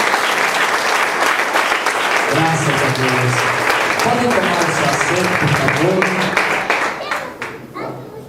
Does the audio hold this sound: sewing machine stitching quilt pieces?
no